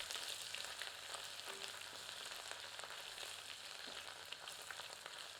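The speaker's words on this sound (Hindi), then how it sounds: "अब कटे हुए अदरक, लहसुन और हरी मिर्च सम्मिलित करते हैं।" Chopped ginger, garlic and green chilli with whole spices frying in hot oil for a chicken curry, a steady close crackling sizzle that runs evenly throughout with no talking.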